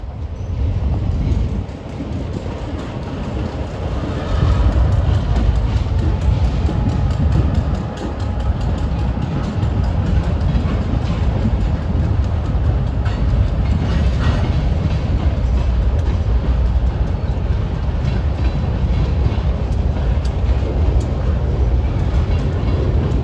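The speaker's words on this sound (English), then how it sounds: "those two GP38-2s thump their way west" Two GP38-2 diesel locomotives rumble past close by at Ronkonkoma, a loud, steady engine drone and rolling rail noise that continues throughout.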